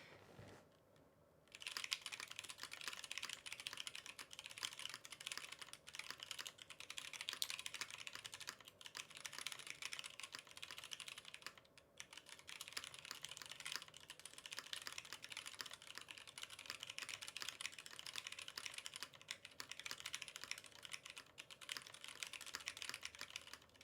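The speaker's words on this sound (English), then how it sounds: "I'm gonna do a typing test." Typing on a Fjell Classic R3 mechanical keyboard with v1 Zealios switches: a continuous rapid patter of keystrokes close to the microphone, with a brief pause near the start and another midway.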